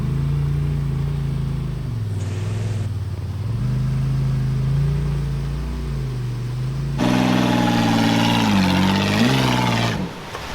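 An off-road Bronco-based rig's engine revs hard as it climbs a rock wall on a rugged trail. A steady loud drone rises to a higher, strained roar partway through, then drops off near the end.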